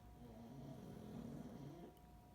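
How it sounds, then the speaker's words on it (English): Dogs snore with low, rumbling snores that rise and fall steadily, close by, with a faint steady hum in the background and no talking. "I'm also sharing my office with dogs who snore"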